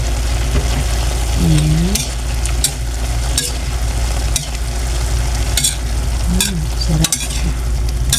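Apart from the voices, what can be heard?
stirring sautéed bean sprouts with tofu in a pan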